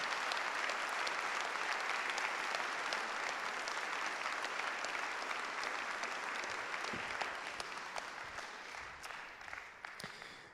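A town council audience claps for a newly named deputy mayor at the installation meeting, a sustained round of applause that starts full and slowly thins toward the end with scattered final claps.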